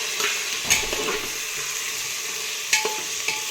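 Potatoes are sautéed in a pan for Maharashtrian masale bhat, with a soft, steady sizzle beneath a few sharp spoon knocks against the pan.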